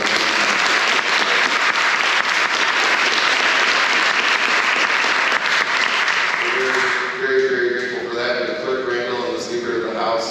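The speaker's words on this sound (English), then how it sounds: "let's give them a round of applause" Loud, sustained applause from an audience in a senate chamber fills the first seven seconds, then thins into scattered claps as voices begin talking over it.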